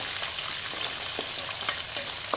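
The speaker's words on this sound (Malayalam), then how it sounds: "എണ്ണ ചൂടായി വരുന്നതനുസരിച്ച് നമ്മൾ അത് വെളുത്തുള്ളിയാണ് ഇട്ട് കൊടുക്കുന്നത്" Garlic frying in hot oil for a fish pickle, a loud, dense and continuous sizzle close up, with a few faint stirring knocks underneath and no voices.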